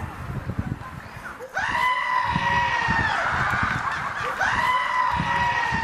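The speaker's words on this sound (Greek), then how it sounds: "βγήκε έξω και άρχισε η κατσίκα να φωνάζει αλλιώς" A goat bleats loudly in a village, long strained wavering cries repeated two or three times close by, following some brief rustling and noise at the start.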